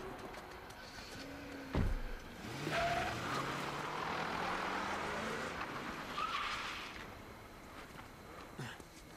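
A car in Uncharted 4 revs and pulls away with a short tire squeal, its engine rising and falling in pitch before fading into the distance.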